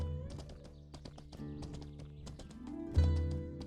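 Horse hooves clip-clop in Mortal Online 2, a heavy steed plodding in a quick irregular rhythm of sharp close knocks, with a louder thud near the end and no talk.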